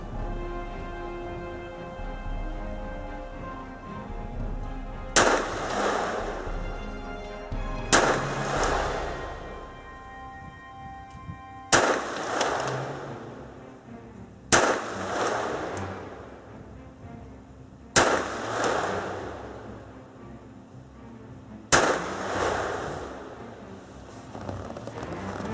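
Six sharp gunshots from a Colt 1908 Vest Pocket .25 pistol fire at uneven intervals of a few seconds, each a loud crack with a ringing, decaying tail outdoors.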